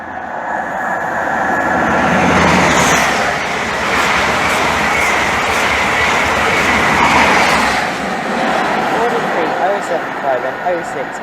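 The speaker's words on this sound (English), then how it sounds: "And the London Leeds is now passing." A London to Leeds passenger train, an EMT-powered set, passes through Hitchin station on the East Coast Main Line with a loud, sustained rushing roar and rail clatter that swells and fades.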